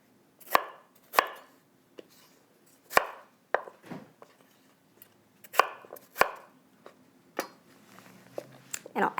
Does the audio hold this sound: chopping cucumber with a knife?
yes